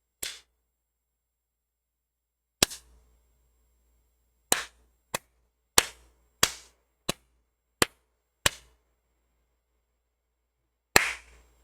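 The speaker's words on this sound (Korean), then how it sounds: "자, 여기서 박수를 한번 쳐보겠습니다" Sharp single hand claps, about ten of them, spaced irregularly a second or two apart in a quiet room, each one crisp and close with a short decay.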